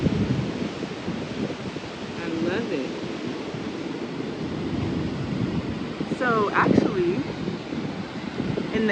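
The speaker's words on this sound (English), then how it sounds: "it's a little bit windy out here" Strong gusts buffet the microphone in a constant low roar outdoors in Addis Ababa, Ethiopia, while a person talks over it and brief voices rise near the end.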